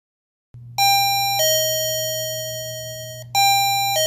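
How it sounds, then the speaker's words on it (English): Alarm chime from a 433 EC caregiver monitor: after a brief silence, a loud electronic tone rings out in sustained ding-dong steps that fade slowly, then sound again near the end over a low steady hum. "Remember that you must turn off the monitor to silence the alarm and then turn it back to the chime position to"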